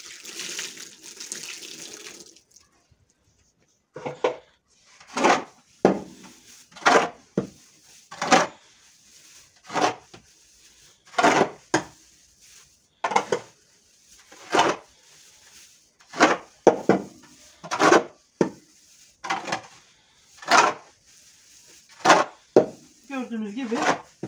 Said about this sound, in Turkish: Onu koyduktan sonra tekrar karıştırıyorum.